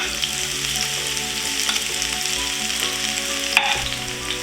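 Onion, garlic and hot pepper hit hot oil in a pot over high heat, and a dense, steady sizzle runs throughout with light stirring clatter and no talk.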